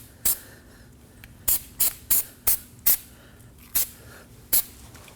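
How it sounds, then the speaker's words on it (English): Never Seez anti-seize sprayed from an aerosol can onto a Kia Optima's front wheel hub surface, eight or so short sharp hissing bursts in quick succession, close and alone. "I like to spray some Never Cease on this surface."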